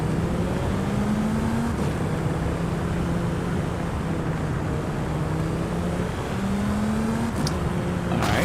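A Lamborghini Aventador SVJ in Forza Horizon 5 drones steadily at night, its engine note holding a low, rising and settling pitch throughout with continuous loud wind and road roar.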